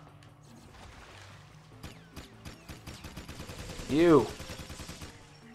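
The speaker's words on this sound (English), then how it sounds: "Who else is shooting?" Gunfire from enemies in Jak II, rapid repeated shots crackling through a busy game mix, with a voice speaking briefly over it and a louder burst near the end.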